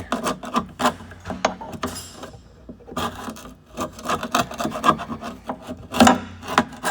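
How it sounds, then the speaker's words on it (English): A scraper works old caulk free during a Kenworth T680/T660 windshield washer motor replacement, making close, uneven bursts of scratchy rasping strokes with short pauses between them. "we're going to take a scraper, try to get all this caulk"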